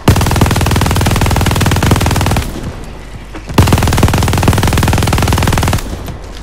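Gunfire in the video game Call of Duty Vanguard: two loud, sustained bursts of rapid automatic fire with a short pause between them.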